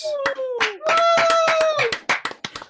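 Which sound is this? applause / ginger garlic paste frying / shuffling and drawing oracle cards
applause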